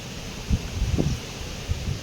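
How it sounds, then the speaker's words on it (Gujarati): Strong wind in a village blows in gusts, rustling leaves and buffeting the microphone with low rumbling bursts over a steady airy background. "પવન બહુ હે આજ"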